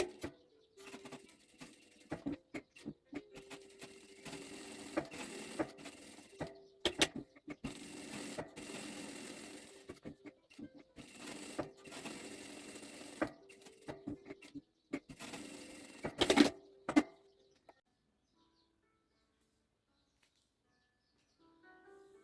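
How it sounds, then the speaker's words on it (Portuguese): A sewing machine runs a seam all the way around a triple wallet, starting and ending with backstitching, in short bursts of rapid mechanical stitching with brief pauses, close and fairly quiet, then stopping into near silence. "Vamos passar uma costura em toda a volta, né? Começando com o retrocesso, um pé de máquina, terminando com o retrocesso."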